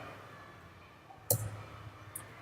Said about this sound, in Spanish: vamos a oprimir la tecla de borrar